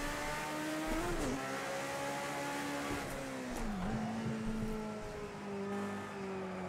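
A Group 5 race car in Project Cars 2 revs hard through a manual H-pattern gearbox at full boost. The engine drone rises and dips with gear changes and throttle lifts, loud and steady throughout, with no voices.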